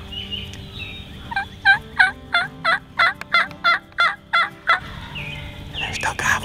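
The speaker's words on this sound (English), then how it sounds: "they're still gobbling" Wild turkeys gobble in a rapid series of about ten clear, rhythmic calls, loud and fairly near, in an outdoor hunting setting with faint bird calls before and after.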